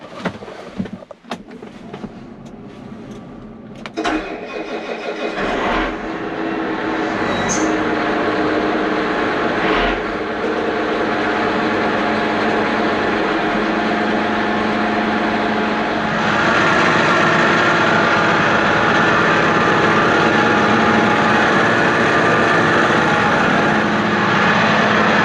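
A Versatile 4WD tractor fitted with a new PTO cranks a few times, catches and settles into a loud, steady diesel roar that grows slightly heavier as it keeps running.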